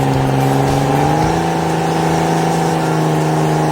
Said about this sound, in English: You can almost hear the frustration in the engine's roar.